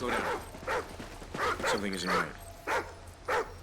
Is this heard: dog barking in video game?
yes